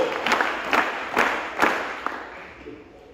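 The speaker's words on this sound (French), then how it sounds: "On acclame encore plus fort." Congregation cheering and clapping in bursts, with several rhythmic peaks of crowd noise that gradually fade toward the end.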